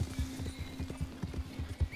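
A horse in Red Dead Redemption 2 walks with a steady clip-clop of hooves, several soft thuds in an even rhythm close by, with a brief high whinny near the end.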